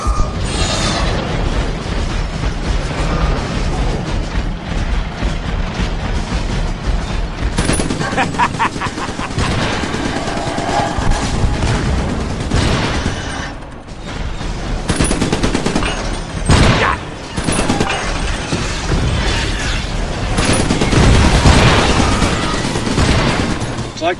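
Rapid, dense gunfire from the Iron Bridge video game: bursts of shotgun and automatic fire crackle almost continuously, mixed with voices talking over the action.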